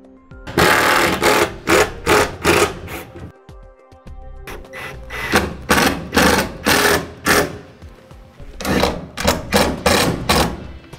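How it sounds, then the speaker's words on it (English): Power drill driving a few screws into a wooden board while fitting an adjustable shelf support in an enclosed cargo trailer: three loud bursts of whirring, each a rapid stuttering run of pulses with short pauses between, no talk. "Now it's going to be a matter of just securing it in using a few screws."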